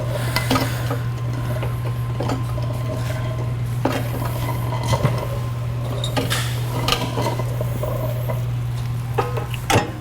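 An IMPACTS S210E-40R shot blaster running over steel shot on a floor, a constant loud mechanical hum with continuous rattling and scattered metallic clicks throughout.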